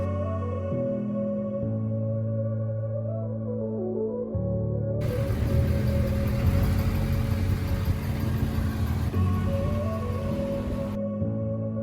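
A car towing a cargo trailer pulls away, its engine hum rising and shifting through gear changes under a loud burst of road and wind noise in the middle, steady and close.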